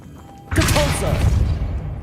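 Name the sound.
Depulso force spell impact in Hogwarts Legacy video game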